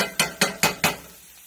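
Four sharp, evenly spaced knocks of garlic being crushed while cooking a ground beef stir-fry, each a bright percussive thud fading quickly, then quiet.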